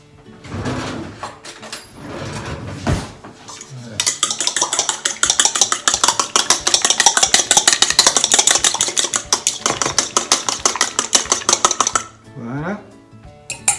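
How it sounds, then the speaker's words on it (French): Two eggs beaten briskly with a utensil in a bowl for vegetable accra batter, a fast steady clatter that runs close and loud for several seconds after some lighter clinks of dishes. "moi, je vais battre les œufs"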